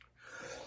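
A person with allergies sneezes once, a short breathy intake building into a sharp, forceful burst, close and alone.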